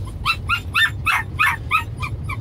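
A Belgian Malinois shepherd guard dog barks in a rapid, even series of about eight sharp, high yipping barks, close and loud, with a low rumbling background and no speech.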